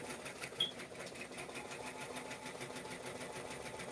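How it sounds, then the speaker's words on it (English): A sewing machine runs steadily, its needle stitching an embroidered patch onto a kids' jacket in a fast, even rhythm close by, with no talking. "I'm just gonna show y'all how to do it on the sewing machine real quick"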